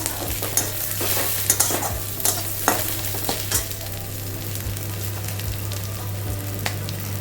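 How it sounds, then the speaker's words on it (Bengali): Onions frying in a pan for a Bengali mango chicken dish, with a steady close sizzle throughout and repeated scraping clinks of a spoon stirring against the pan, no voices. "পেঁয়াজটা মোটামুটি ভাজা ভাজা হয়েছে"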